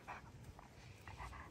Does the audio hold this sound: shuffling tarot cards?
no